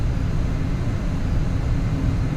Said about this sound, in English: See if we can put this plane down on the tarmac nicely.